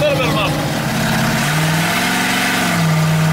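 A Ford Bronco engine without a muffler roars and revs up close, its rough drone shifting pitch, with voices shouting over the noise.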